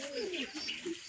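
Pigeon cooing at a nest where it has laid eggs, heard as a few soft, low, descending coos close by over a faint background hiss, with no talking.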